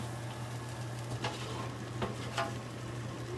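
Chicken fajitas sizzle on a hot flat top while being stirred, a steady frying hiss over a low hum with a few sharp scraping clinks from the utensils.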